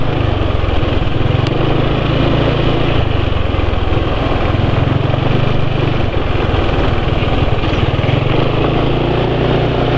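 Kawasaki Win motorcycle engine running steadily just after an oil change with Meditran S SAE 40, a close, loud, constant idle rumble with a slight rhythmic pulsing and no voices.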